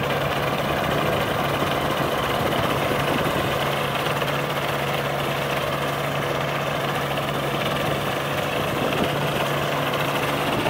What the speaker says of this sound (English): This is Jamie firing up his Aerolite